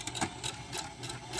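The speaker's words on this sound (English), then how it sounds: "we're going to put the fabric under the machine, lower your needle, just like we did before, lower your presser foot, do your back stitching" A sewing machine runs steadily while stitching a fabric seam after back stitching, its low motor hum and fast needle rhythm continuing without pause, fairly quiet and close.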